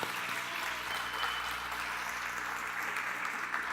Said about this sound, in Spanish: Si lo vas a aplaudir,